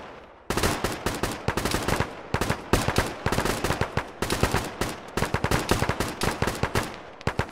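Sustained rapid gunfire in a ShackTac military video game, dense automatic bursts and single shots starting abruptly and continuing nearly nonstop, loud and close.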